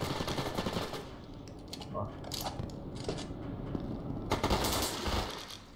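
Bursts of rapid gunfire crackle in short volleys, with scattered single shots and mechanical clicks between them, against a busy background in the video game Brain Out.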